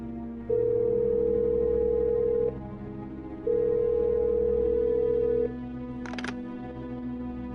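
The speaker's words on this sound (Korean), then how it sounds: "난 곧바로 글에 있는 연락처로 전화를 걸었지." A phone ringback tone sounds twice in long steady beeps with a pause between, followed by a brief click near the end.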